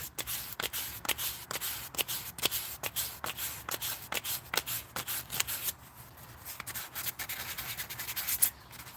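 Wood sanded by hand with sandpaper, heard as a close, rhythmic series of scratchy back-and-forth strokes, about two per second, that eases to softer rubbing near the end.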